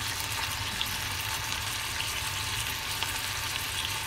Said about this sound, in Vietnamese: đạo vào chiên xào đó.